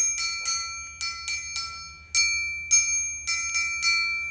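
Bright metallic strikes ringing out in an irregular pattern, about a dozen hits with long shimmering decay, close and clear with no talking.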